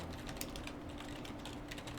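Quick, steady typing on a computer keyboard, a continuous patter of key clicks, faint and somewhat distant, with no one speaking.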